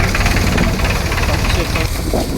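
Tractor loaded with maize running at a market yard, its engine knocking steadily and close, with people talking over it.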